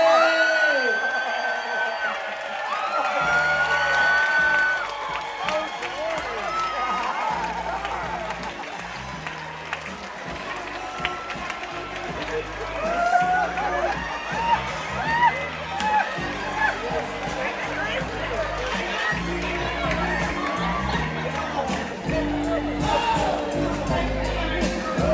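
An audience at a cruise-ship love and marriage show whoops, cheers and claps over a thumping music beat, with shouts rising and falling throughout and a voice talking at times over the noise.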